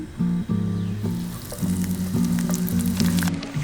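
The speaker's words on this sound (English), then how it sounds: "Flash fry in a hot oil" Zucchini coated in breadcrumbs, flour and parmesan flash fries in hot oil, a steady crackling sizzle running beneath loud, sustained background music for the whole stretch.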